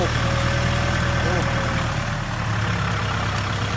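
A John Deere 5076E tractor hauling 14 tons of sugarcane out across soft field soil gives a loud, steady, close diesel rumble with a low droning hum throughout.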